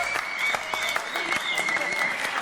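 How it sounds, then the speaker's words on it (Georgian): A studio audience on a TV show applauds throughout, a close, dense patter of many hands clapping without a pause. "აპლოდისმენტები."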